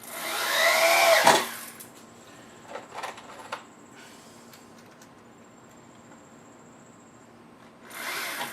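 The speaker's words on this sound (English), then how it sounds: "I drill pilot holes for the screws to prevent the wood from splitting" A power drill bores pilot holes for screws into thin wooden fairing strips, with a loud whirring burst, a few quieter taps and short buzzes, then a quiet stretch before another short drill burst at the end.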